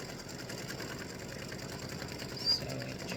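Embroidery machine stitching a 4x4 Halloween witch design, a steady close mechanical whir with a fast even needle rhythm, alone with no voices.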